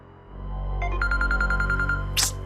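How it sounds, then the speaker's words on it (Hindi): A phone rings indoors in a close, electronic tone repeating in a quick, even run of pulses for about a second, followed by a short sharp click. "शैतान का नाम लिया और शैतान का फोन।"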